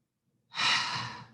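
A single big, deep inhale during yoga practice, a breathy rush of air that swells in quickly and holds for under a second, close and clear with no talk.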